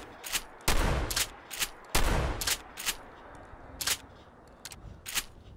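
A shotgun in Fallout 4 fires a string of loud, booming blasts, two especially heavy ones early, then lighter shots and mechanical clacks spaced irregularly, with quiet gaps and no talking.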